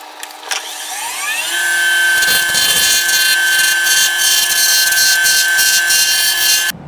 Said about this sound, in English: I'm going to take really light cuts until I can get that round